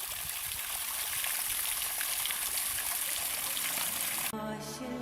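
Water rushes steadily down a drain, a loud continuous wash that cuts off abruptly into a brief tonal sound near the end.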